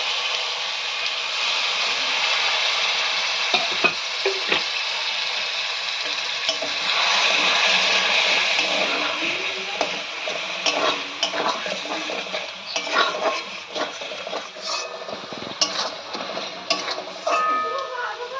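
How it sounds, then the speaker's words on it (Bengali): A spice paste of tomato, cumin, pepper, coriander and red chili powder with a little water sizzles in a pan, a steady close hiss broken by repeated scraping and tapping of a spoon, with no talk. "এবার মশলাটাকে আমাদের ভালো করে কষিয়ে নিতে হবে।"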